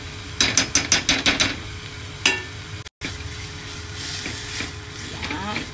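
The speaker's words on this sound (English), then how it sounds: "saute the garlic and onion and add on the butter" Garlic and onion sautéing with butter for garlic shrimp: a burst of rapid spoon scrapes and clatters against the pan, then a soft sizzle under it.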